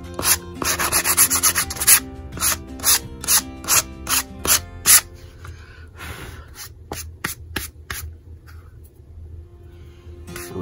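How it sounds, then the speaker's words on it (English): A name plate's edges being sanded by hand: a run of rhythmic, close rasping strokes, quicker at first, then a few slower scattered rubs after a short pause. "I may sand this down a little bit"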